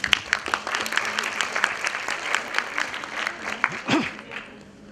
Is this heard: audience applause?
yes